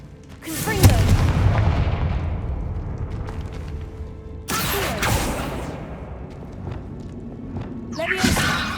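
A Confringo blasting spell fired in Hogwarts Legacy, heard as a loud booming blast with a rumbling tail, then a second sharp impact midway and a third burst near the end, over a low eerie ambience in a tomb.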